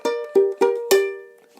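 Four plucked ukulele notes, a thirds motif from La Llorona with the thumb note louder than the index, each attack sharp and ringing briefly before the last one decays.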